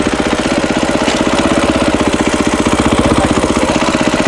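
A Yamaha 125 motorcycle engine runs close and loud with a fast, steady stream of firing pulses, holding an even throttle throughout with no voices.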